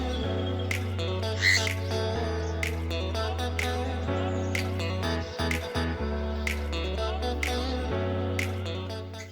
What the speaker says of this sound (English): That's another one of his calls. That's definitely a canary.